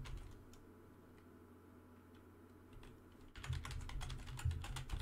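Typing on a computer keyboard while entering a search: a few faint scattered key taps, then a quicker, denser burst of clicking near the end, close and quiet with no talk.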